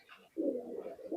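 Teddy pigeons offered for sale, a Pakistani high-flying breed, coo in a low rolling phrase that is close and clear, with a second shorter coo at the end.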